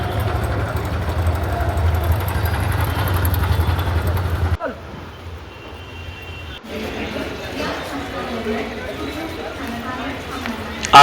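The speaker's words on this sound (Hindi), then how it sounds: "बाइक स्टार्ट करी और स्टेशन के लिए प्रस्थान कर दिया।" A motorcycle engine idles with a steady low rumble for about four and a half seconds, then cuts away to a quieter stretch of faint background noise.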